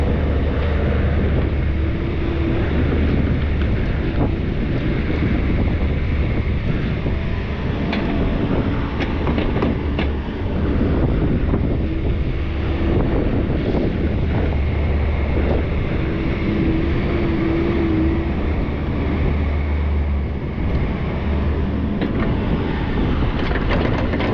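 Cold wind blowing steadily outdoors, a constant loud low rumble buffeting the microphone for the whole stretch with no talk.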